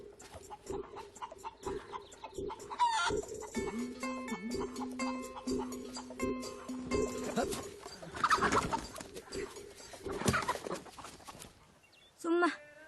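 A rooster and chickens cluck and call outdoors in a rural yard, with some cooing mixed in. People talk throughout, and the birds are heard in intermittent bursts beneath and between the voices.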